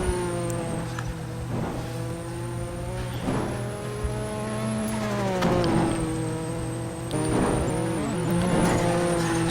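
A 1986 Japanese Grand Prix Formula One car, with a Matra engine, screams past with a rising and falling engine note and harmonics that shift as it passes. Further passes follow, all loud and continuous over roughly nine seconds.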